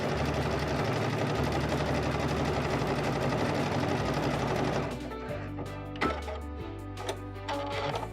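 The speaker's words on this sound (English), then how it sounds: "Couching over your favorite decorative yarns and threads is easy with the digital dual feed on the Baby Lock Destiny." A Baby Lock Destiny sewing machine couches decorative yarn, its needle running in a steady, loud mechanical whir that later breaks into shorter bursts with brief pauses between stitching runs.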